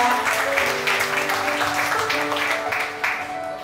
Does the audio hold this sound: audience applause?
yes